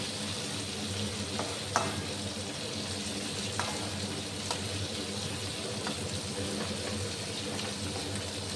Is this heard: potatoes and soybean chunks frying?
yes